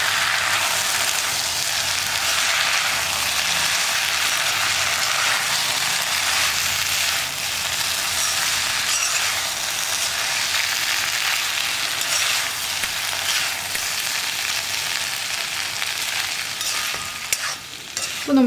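Drumstick and prawn thoran being stirred in a hot pan, a continuous loud sizzle with scraping stirring throughout, no voices.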